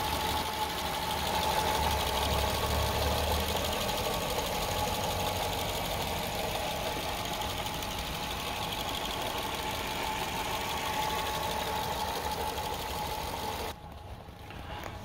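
A 2006 Honda Fit 1.3 engine idles steadily with a low, even rumble and light rhythmic knocking, continuous until it drops away abruptly near the end.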